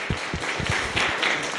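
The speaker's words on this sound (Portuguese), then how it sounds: "Uma salva de palmas para todas as equipes." Applause for student teams at a physics tournament, with a handful of people clapping in a hall; the individual claps come through irregularly at moderate volume before the sound fades.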